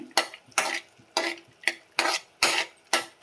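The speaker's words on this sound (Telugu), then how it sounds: "నెయ్యిలో వేపిస్తాను" Nuts being fried in ghee for sweet puris, stirred with a spoon in a pan: seven rhythmic scraping strokes, each a bright rasping burst with a soft sizzle beneath, close and fairly loud.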